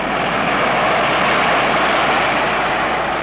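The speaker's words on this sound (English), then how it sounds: "Oh, look, there goes a jet." Jet aircraft passing overhead, a loud, steady broadband roar that holds for the whole stretch with no voices over it.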